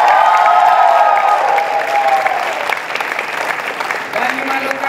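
Thunderous applause and cheering from a crowd at the opening of the UPSI Leaders Colloquium 2023, loud and sustained, fading slightly near the end.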